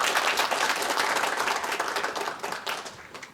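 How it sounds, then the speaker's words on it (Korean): Audience applause at a Suncheon First College forum, many hands clapping densely and steadily, gradually thinning out toward the end. "고재철 지사장님께 다시 한번 큰 박수 부탁드립니다."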